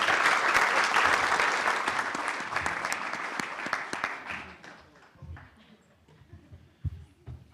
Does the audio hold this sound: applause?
yes